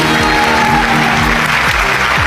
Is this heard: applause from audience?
yes